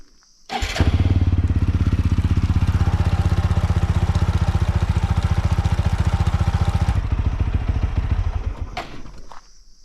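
A motorcycle engine fires up and settles into a steady, loud, close idle that runs several seconds before cutting off, with a faint click at the end.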